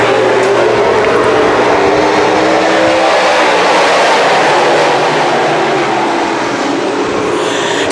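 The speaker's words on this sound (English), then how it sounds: "Billy Dunn drives by on the top side, and just like that, Billy Dunn is your leader" Small-block modified race cars roar around Can-Am Speedway during a feature race, a loud, dense engine wash that swells and holds with overlapping cars passing close by.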